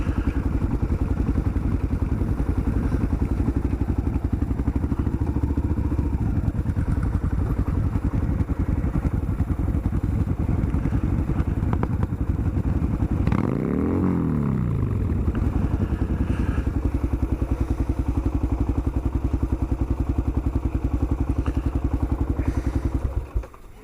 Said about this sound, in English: Just making sure Kirsty backs the bike in.